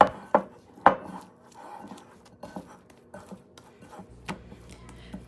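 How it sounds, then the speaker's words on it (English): Sticky sourdough pizza dough of flour and water being stirred in a bowl, irregular clacks and knocks of a spoon against the bowl with softer squelchy scraping between them, close and fairly quiet. "Stir the mixture together until you have a sticky, shaggy dough ball."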